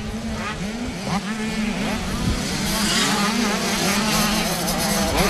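85cc small-wheel motocross bikes racing at a British Motocross Championship round at Whitby, a dense buzz of several two-stroke engines revving and passing at mid distance, with an announcer talking over the race noise.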